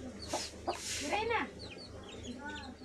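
Aseel hen clucking among newborn chicks, close by, with a few short clucks and thin chirping peeps across the moment over a low background hum.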